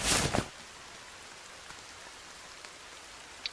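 Rain falls in the PC survival game The Forest, a steady, soft hiss of showers behind a louder burst of sound at the start and a few faint clicks later.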